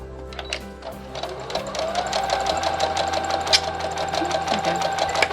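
Sewing machine stitching cord piping on fabric, a steady close mechanical whirr with rapid rhythmic needle ticks that speed up after a brief slower start, alone without talk.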